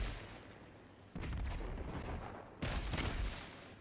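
Gunfire in the Destiny 2 beta, a dense burst of shots and blasts that rises sharply twice, loud and continuous with no talking.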